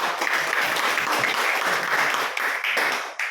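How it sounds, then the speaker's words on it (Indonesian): A classroom of students applauds after a group presentation, a continuous, fairly even patter of many hands clapping that carries through the whole stretch, moderately loud with no clear speech. "Oke, tepuk tangan dulu."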